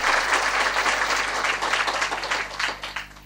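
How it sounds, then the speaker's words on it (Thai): Enthusiastic applause from an audience, a dense wash of clapping that stays strong and then begins to taper off at the end. "ปรบมือดังๆ นะ"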